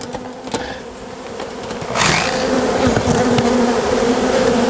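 Honeybees buzz loudly and continuously at close range while a hive is removed, and the droning swells into a denser swarm halfway through.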